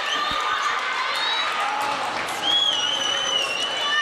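Hockey crowd at a high school varsity playoff game roaring with steady cheers and whistles after a Bethpage goal, a dense continuous swell of noise filling the arena without letting up.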